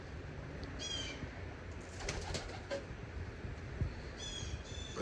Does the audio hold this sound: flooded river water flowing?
no